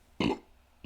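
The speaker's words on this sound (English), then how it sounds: "let me burp" A single loud, close burp from a man, a short guttural belch followed by a brief fainter sound at the end, with no talking over it.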